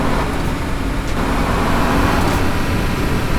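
Truck engine drone from the mobile game Universal Truck Simulator, a steady, dense road rumble with tyre and traffic noise that holds evenly loud throughout, with no voice over it.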